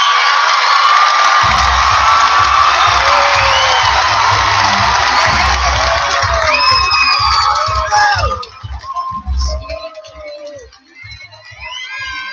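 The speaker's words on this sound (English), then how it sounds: "warm round of applause" An awards ceremony crowd bursts into loud cheering, whoops and applause for the advisors, a dense roar with shrill shouts that thins out toward the end.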